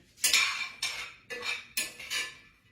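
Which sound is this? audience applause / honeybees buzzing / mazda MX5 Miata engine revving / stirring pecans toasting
stirring pecans toasting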